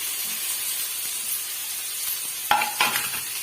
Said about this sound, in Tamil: இப்ப பாருங்க, வெங்காயம் நல்லா வதங்கி வந்திருக்கு